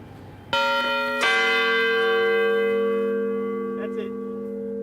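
A bell in an old clock tower strikes twice close by, each toll ringing out with bright, sustained overtones that slowly fade into a long hum.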